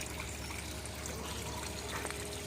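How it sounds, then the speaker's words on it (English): Water leaking and trickling in a garden, a steady continuous pour with no pauses or voices. "That water leak really bothers me."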